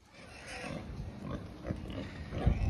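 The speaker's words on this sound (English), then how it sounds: "In case you're wondering what all of those demonic sounds are, that would be Pig Newton" A pig grunts and snorts in low, rough bursts at close range, fairly quiet with some background noise.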